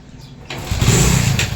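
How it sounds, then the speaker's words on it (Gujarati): A car engine cranks and catches about half a second in, then runs loud and close. The running engine continues to the end with a rough, steady roar. "તમારી ગાડીનો અવાજ સાંભળે ને ભાગી જાય."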